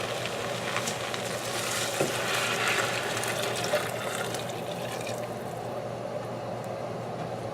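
Stock is poured into a soup pot of vegetable steak soup, making a steady splashing, trickling stream of liquid. It is fairly faint and continuous, with a soft sizzle underneath, and no one speaks.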